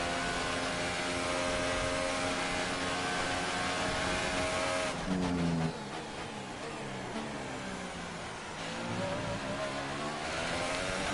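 Formula 1 race car engine in F1 2018 at Bahrain, a loud sustained high-revving whine with gear shifts and pitch sweeps as the car pulls away on the opening lap, no talk over it.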